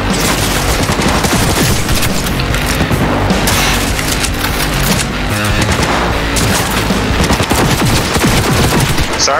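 Video game weapon fire in rapid bursts, dense crackling gunshots and booms stacked close together, loud and continuous, with a player speaking over the action.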